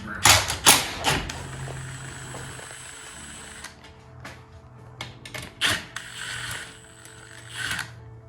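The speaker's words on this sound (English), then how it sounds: "take the bolts out of it now, and drop that unit to the ground" Bolts come out of the angle iron holding a Linear 861 garage door opener, heard as ratcheting clicks and metallic knocks in uneven bursts over a low hum, with a voice talking throughout.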